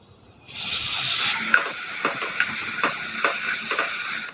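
Onions and chopped tomato sizzle in a hot pan as they are sautéed, the frying hiss starting abruptly and holding steady, with repeated stirring scrapes on top, close and fairly loud.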